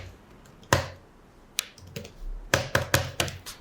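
Keys tapped on a computer keyboard while entering a bank account number, a few isolated clicks followed by a quick run of clustered keystrokes, close and fairly quiet.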